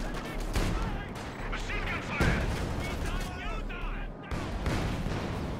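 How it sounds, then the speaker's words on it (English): A double artillery barrage pounds a building in the real-time strategy game Company of Heroes 2, a dense stretch of repeated blasts and gunfire crackling throughout, with some heavier thumps among the busy battlefield noise. "Double barrage onto the building"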